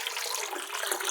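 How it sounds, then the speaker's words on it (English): About a liter of clean water poured into a diluted orchid fertilizer solution, a steady close splashing gush, continuous and alone. "I will add about 1 liter of clean water to dilute the solution"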